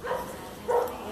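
A small dog out on a street in a Campina Grande neighbourhood gives two short barks about half a second apart, moderately close against a hissy outdoor background.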